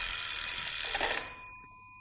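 An old-style telephone bell rings in a bright, continuous metallic trill, loud and close, then cuts off and decays into silence.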